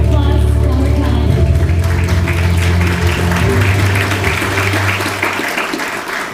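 An audience at the World Bank Korea Office's 10th anniversary event gives a big round of applause for Ms. Biota. Loud, sustained clapping runs over a low, steady hum and fades gently near the end.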